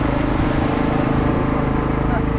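Small boat engine rated at 18 horsepower running steadily, a continuous droning putter with a throbbing low tone, close and fairly loud with no pauses.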